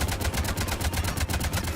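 Rapid automatic gunfire in the video game Mass Effect, a steady stream of evenly spaced shots over a low rumble, continuous and fairly loud throughout.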